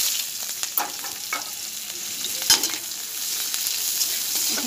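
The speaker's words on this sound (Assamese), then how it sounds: "এতিয়া মই ইয়াতে পিঁয়াজ আৰু জ্বলাখিনি দি দিম।" Onion and chillies fry in oil with panch phoron, making a close, steady sizzle punctuated by crackles and one sharp clatter of stirring midway.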